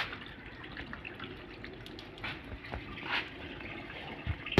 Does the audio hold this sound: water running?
yes